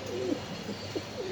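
Racing pigeons at a farm coo in soft, low, throaty bursts, several short calls in quick succession close by over a quiet background hum.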